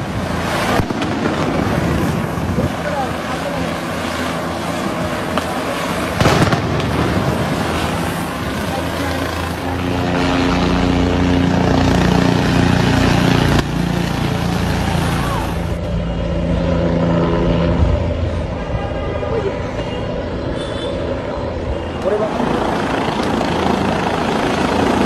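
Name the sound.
helicopters taking off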